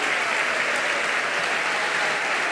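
Dense, steady applause from a concert audience at a concert in Carrizal, sustained at an even level throughout without any distinct voices.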